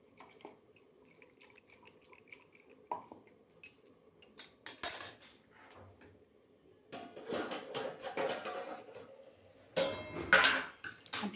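A mixer grinder bowl is rinsed with water in a home kitchen where masoor dal is being cooked, giving clattering and sloshing bursts of splashing and metal clinks, loudest in the second half.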